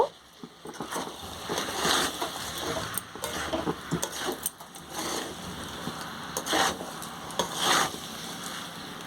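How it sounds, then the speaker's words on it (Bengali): Rice, lentils and meat being stirred together in a pot for a Bengali khichuri-style dish, giving continuous scraping, sloshing and clinking with irregular louder strokes, close and steady throughout, without speech. "চাল ডাল মাংসের সাথে ভালো করে মিশিয়ে নেব।"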